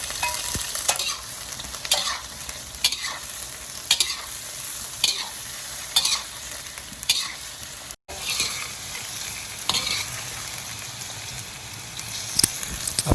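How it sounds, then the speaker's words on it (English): Brinjal is stir-fried in hot oil, giving a close, steady sizzle broken by regular spatula scrapes and stirring clacks throughout. "remember we will only mid cook the brinjal, so remember not to overcook it"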